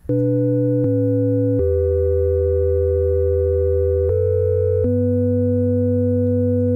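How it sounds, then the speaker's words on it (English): A soft synthesizer sine-wave tone raised an octave plays a melody of sustained, pure notes that step between pitches, clean and steady with no talking. "if we change this to, say, a sine wave, we could bring it up an octave so we could hear the prettiness of the soft sine wave"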